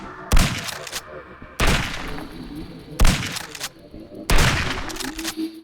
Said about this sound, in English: Overall, it is a good shotgun